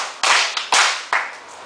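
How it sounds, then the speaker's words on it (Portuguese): A group claps three sharp, loud claps together in an evenly spaced rhythm, each burst decaying quickly before the next. "Agora 3 palmas para todos nós."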